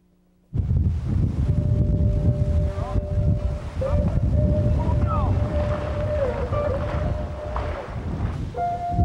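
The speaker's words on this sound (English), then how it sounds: "Our friend the wind." Wind roars steadily across a microphone outdoors near the water, loud and buffeting from start to finish, with a few faint whistling tones riding over the rumble.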